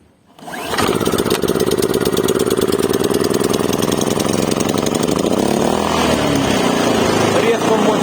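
A Daewoo DAIG 3000 S inverter generator starts up after a second of quiet and settles into a loud, steady, buzzing engine drone that holds close and constant, with a slight shift in pitch toward the end.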